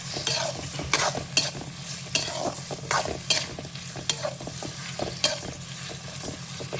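Onions and tomatoes for a prawn curry sauté in a pan as a spatula scrapes through them in quick, regular strokes over a steady close sizzle; no voices.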